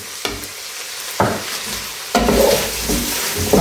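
Mushrooms being added to a hot pan and stir-fried for fried rice in a home kitchen: sharp sizzling bursts as each batch drops in, with spatula scrapes and steady frying between them.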